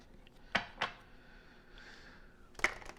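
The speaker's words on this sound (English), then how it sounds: "3 shuffles, guys. Always 3 shuffles." Oracle cards being shuffled by hand, three short papery riffles: two quick bursts close together, a pause, then a third, near and fairly quiet with no talk.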